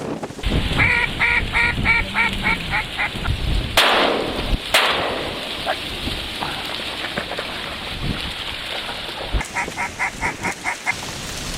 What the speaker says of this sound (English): Northern South Dakota, and these are mostly mallards